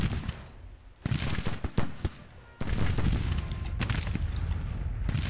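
Scattered musket volleys and artillery booms from a Civil War battle in Grand Tactician: The Civil War, sharp cracks and bursts rising into a sustained rumble of fire, moderately loud and steady.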